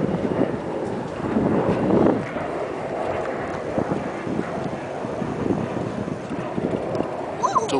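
Wind gusts around a DIY permanent magnet generator wind turbine outdoors, a continuous rumbling buffet on the microphone that swells briefly, then settles into a steady rush.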